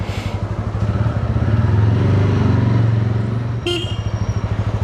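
A new motorcycle rides along with a steady, close engine drone that rises and eases as it shifts up into second gear, with a brief horn toot toward the end.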